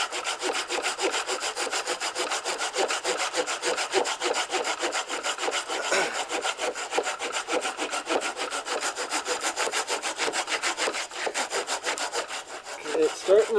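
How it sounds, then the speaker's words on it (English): A hand saw cuts through a tree trunk for firewood in deep snow, its strokes rasping back and forth in a fast, even rhythm. The sawing is close, loud and continuous, with no voices. "So I'm just going to take the saw and cut it off right here"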